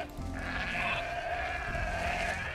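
Sheep bleat in the strategy game Age of Empires II DE, a steady wavering call holding for about two and a half seconds over a busy in-game backdrop.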